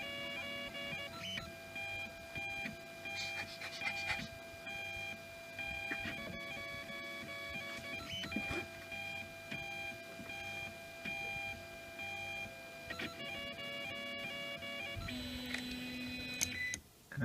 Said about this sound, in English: this is my first 3D print on my own 3D printer.